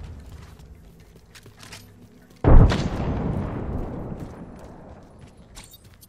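A frag grenade detonates in the video game Apex Legends with a sudden loud blast that rolls off into a long decaying rumble over a few seconds, no voices.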